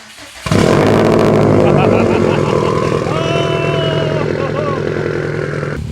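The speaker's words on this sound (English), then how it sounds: "This is your neighborhood friendly exhaust." A catless Subaru WRX STI with a Cobb titanium exhaust roars to life close by and revs, holding a loud, raspy exhaust drone with rising and falling pitch for several seconds.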